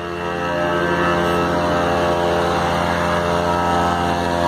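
A noisy water pump running steadily, pushing water through fire hose lines at a forest fire, a loud, continuous mechanical drone with a low harmonic hum that holds evenly throughout.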